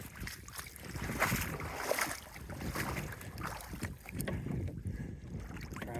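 A Crescent Cres-Craft motorized kayak moving across water, with soft sloshing and splashing against the hull, gusts of wind buffeting the microphone, and no clear motor tone.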